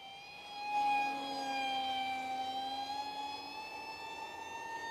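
RC Powers F-16 V5 model jet making a close pass at full throttle: a steady, loud whine with a strong harmonic stack that swells as it nears and then holds, continuous and alone with no talk.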